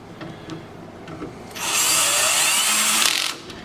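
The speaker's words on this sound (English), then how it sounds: "if you're going to use a power tool, make sure you're using a low torque setting" A power drill whirs for about two seconds as it drives a screw into a TV wall-mount faceplate, preceded by a few faint clicks and handling noises.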